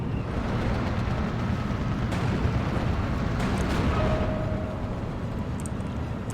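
Artillery rounds exploding in a World War II tactical video game with German units, heard as a continuous low rumbling barrage of blasts and booms, steady and heavy throughout.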